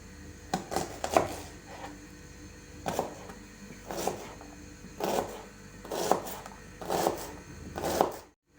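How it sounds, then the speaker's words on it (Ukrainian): A knife cuts one medium onion into strips on a cutting board in irregular, separate strokes, about a dozen soft chops close by with quiet pauses between. "Одну середню цибулю нарізаємо соломкою."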